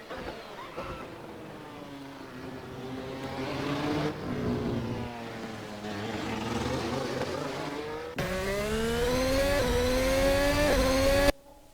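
Formula hybrid race cars in Assetto Corsa rev and whine continuously, pitch rising and falling through gear changes, loud and close with no talking, ending abruptly.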